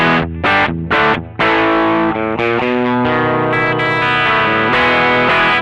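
An electric guitar strums a few sharp chords, then rings out with sustained, layered notes; loud, close and without voices.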